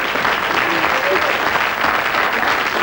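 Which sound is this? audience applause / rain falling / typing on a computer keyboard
audience applause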